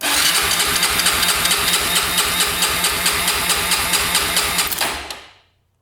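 A Honda 400ex quad engine cranks over with the throttle held open, a fast, even, chugging pulse from the starter for about five seconds before it stops abruptly, close and loud with no voices.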